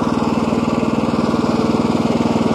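A walk-behind tracked gasoline orchard lawn mower runs with a steady, loud, close engine drone, its rapid even pulsing thrumming without a break and no voices.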